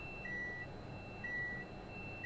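A train's electronic warning beeps in Train Sim World 5, thin steady tones sounding in short repeated pulses at two pitches over a low, constant cab hum, with no talking.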